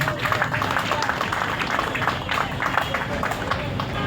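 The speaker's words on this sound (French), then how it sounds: "Applaudissons pour tous ces gens-là." Audience at a school year-end closing ceremony with choir, theatre and poetry applauds steadily for several seconds, a dense continuous patter of clapping with faint crowd murmur.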